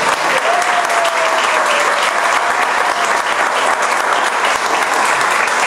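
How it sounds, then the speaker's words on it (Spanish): Book launch audience gives loud, sustained applause, a thick continuous clapping that stays even from start to finish, with a brief whistle-like tone early on. "pido un aplauso bien fuerte para la cómplice de don Alejandro"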